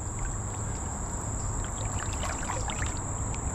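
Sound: wading through a cold creek by a beaver dam

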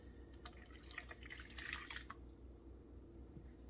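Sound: pouring half a cup of warm water into crepe batter

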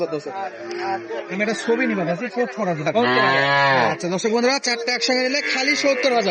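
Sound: cattle mooing at a cattle market

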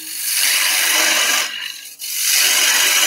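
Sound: wood carving gouge cutting wood

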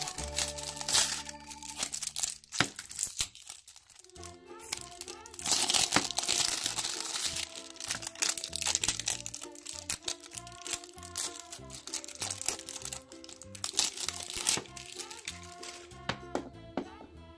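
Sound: removing toy balls from crinkly plastic bag

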